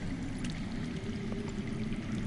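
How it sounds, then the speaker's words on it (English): Underground water runs in a steady, continuous rush in a Game of Thrones game, like a stream or pouring flow heard from below, with no talking over it. "I hear water. From underground."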